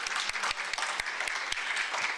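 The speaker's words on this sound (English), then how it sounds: "Let's give her a round of applause." Applause from the audience at a Citizens Club of Springfield event marking the YMCA's 150th anniversary, a dense steady burst of clapping with sharp individual claps standing out.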